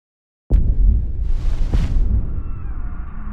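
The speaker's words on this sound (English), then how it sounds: "An explosion erupted near the church." A single loud blast near a church bursts out suddenly, then a sustained low roar and rumble carries on after it, with a brief crackling burst partway through.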